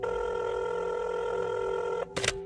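A telephone rings after a number is dialed, a podcast sound effect: a steady, unbroken electronic ring lasting about two seconds, then cut off by a brief noisy burst.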